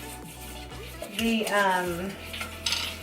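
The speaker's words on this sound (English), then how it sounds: "It says to stir this for a minute like this" A spoon stirring broccoli cheese potato soup in a metal pot, scraping and clinking in short strokes at close range, with a voice talking over part of it.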